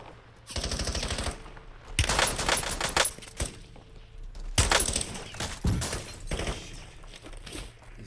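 Shotgun fire in Call of Duty: Black Ops 7, several loud bursts of rapid shots separated by short pauses, sharp and close.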